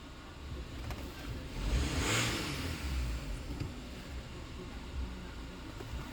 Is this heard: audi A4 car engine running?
yes